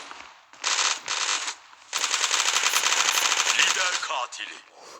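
Gunfire in the online shooter Zula: a loud close burst of automatic fire, a brief pause, then a long sustained rattling stream of rapid shots before it cuts off.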